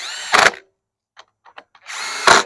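A power tool tightens the outer nuts on a Briggs & Stratton E-Series engine of a TroyBilt TB200 mower. It gives two loud, brief whirring bursts close by, with faint metallic clicks in the quiet gap between them.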